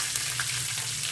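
Garlic sizzles and crackles steadily in hot oil in a kadai along with cumin and mustard seeds, a dense and even frying hiss with no voices over it.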